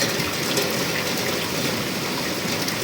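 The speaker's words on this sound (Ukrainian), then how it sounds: "І дощ падає." Steady rain pours down continuously during a thunderstorm, a dense broadband hiss with no break, close and fairly loud, alone with no talking.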